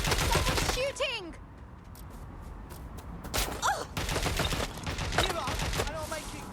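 Rapid bursts of gunfire in the video game Watch Dogs Legion, cracking in dense clusters under urgent shouted voices, with a brief lull before the shots pick up again and keep rattling on.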